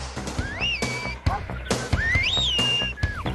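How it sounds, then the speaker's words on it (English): A farmer whistles commands to herding sheepdogs: two long, swooping whistled calls rising and falling in pitch, clear and fairly close over rough outdoor background noise. "The dogs follow the farmer's whistle because they think of him as their leader."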